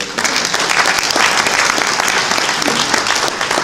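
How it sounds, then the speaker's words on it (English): A crowd at a political campaign gathering gives a loud, dense round of applause that holds steady for several seconds without any speech. "give them a round of applause"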